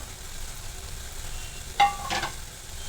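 Fried eggs sizzling in a pan of homemade masala curry for anda masala, a soft steady frying hiss with a brief stir or clink near the middle, close and fairly quiet.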